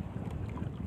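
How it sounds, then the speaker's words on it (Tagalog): Strong wind roaring steadily over a small fishing boat at sea during handline fishing, a constant close buffeting rush with no voices. "parang lumakas ang hangin"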